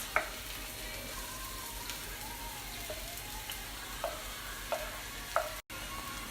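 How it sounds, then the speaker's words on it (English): Onions saute with green and red peppers in a pan for a mushroom and bacon frittata, a low steady sizzle broken by light scraping stirs and a few small taps, close and fairly quiet with no speech. "next to go in are my onions, just to saute a bit with my green peppers and red peppers"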